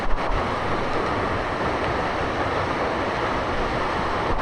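Gunung Pulai waterfall in Johor pours in a constant, even rushing wash of water, moderately loud and steady with no voices over it.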